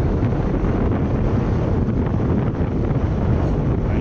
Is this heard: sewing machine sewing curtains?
no